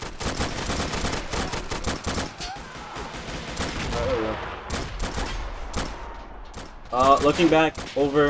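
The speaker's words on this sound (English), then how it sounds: "there are explosions and shootings." Rapid bursts of gunfire and booming blasts from a battle in the video game Army Men: Plastic Wars, with someone talking over the action.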